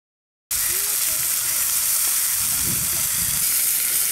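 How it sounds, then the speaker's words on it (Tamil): Coconut milk poured into a hot pan with basmati rice and sautéed onion, bursting into a loud hiss after a short silence and settling into a dense, steady sizzle with faint bubbling. "இப்போ நான் தேங்காய் பாலை ஊற்றுறேன்"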